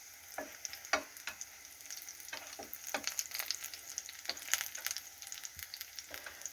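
Meat fries in a pan with a soft, quiet sizzle, broken by irregular clinks and scrapes of stirring.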